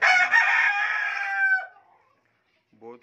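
A rooster among ringneck chickens crows loudly and close by for about a second and a half, followed after a pause by a brief cluck.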